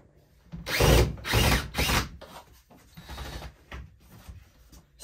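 Power drill backing long screws out of a top bunk in a Forest River Salem FSX178 RV, several close whirring bursts with pauses between them, with no talking.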